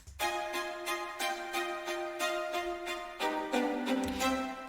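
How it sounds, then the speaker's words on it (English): A Stradivari violin sampled from Contact plays a staccato string part with an Amati viola an octave below, short bowed notes repeating in a steady even rhythm, a thicker chord change near the end, loud and alone. "So I've got this Stradivari violin from Contact also playing the same exact part, and this Amati viola an octave down"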